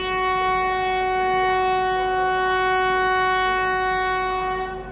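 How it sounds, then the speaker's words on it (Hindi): Awadh Express train pulling out of a station on Indian Railways, its horn sounding as one long, loud, steady multi-tone blast that holds for about five seconds before starting to fade. "ये निकल गई अवध एक्सप्रेस, इसको डिपार्चर मिला"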